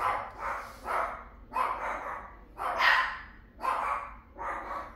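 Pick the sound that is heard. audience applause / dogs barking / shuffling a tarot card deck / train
dogs barking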